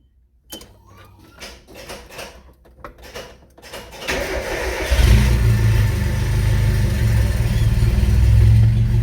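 A Nissan Hardbody pickup's engine cranks with a whirring starter, then catches and settles into a loud, deep rumbling idle with prominent exhaust, close by after some clattering handling noises.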